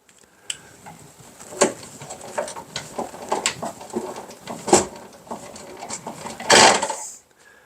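An antique Victor Victrola phonograph is wound by its hand crank, giving close, steady runs of mechanical ratcheting clicks with a few louder clunks along the way.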